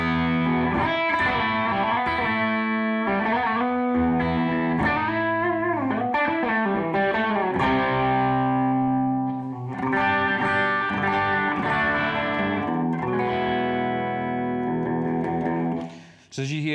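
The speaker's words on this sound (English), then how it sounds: "but when you push the gain, you can get a nice drive sound" Electric guitar through a Mooer Black Truck analog overdrive with the gain pushed, playing sustained driven chords and single notes. The sound is loud, continuous and articulate with no talking, and it fades out at the end.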